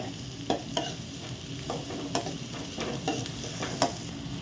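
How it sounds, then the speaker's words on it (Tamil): Onions sautéed in a pan for a dhaba-style mutton fry, with a steady sizzle and repeated scraping clicks of a spoon stirring at an irregular pace, close and moderately loud, with no voices. "இந்த வெங்காயம் வந்து நல்லா வதங்கும், ஒரு ப்ரௌன் கலராக வரும்."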